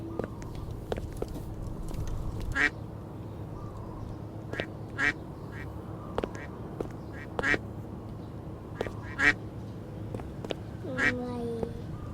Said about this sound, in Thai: ทุกคนมันคือนก หรือว่ามันคือเป็ด มันคือนกปะน่าจะนก